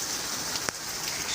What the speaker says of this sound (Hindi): तेज़ बारिशा नज़ूल जारी है जी।